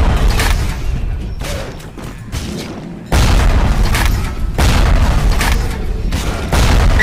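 A frag grenade in the BioShock video game goes off in a loud boom, then a deep heavy blast at about three seconds fills the rest of the clip with dense rumbling gunfire and explosions, with no talk over it.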